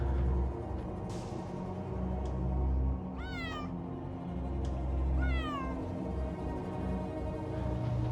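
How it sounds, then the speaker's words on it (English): A cat meows twice inside an eerie, quiet building, two drawn-out wavering cries a couple of seconds apart, close and clear over a low background hum. "Oh, just a cat."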